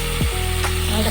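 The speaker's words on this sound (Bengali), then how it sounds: "এটা ভাজা ভাজা হয়ে যাক।" Okra (bhindi) frying in a pan, a steady sizzle close up with a brief scraping stir and a faint mechanical hum underneath.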